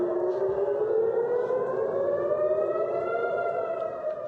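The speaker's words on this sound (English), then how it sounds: "sirens could be heard as the bombs fell" A loud, sustained air raid siren wails during a missile attack with a slowly rising pitch, steady and unbroken, sounding from a distance across open air.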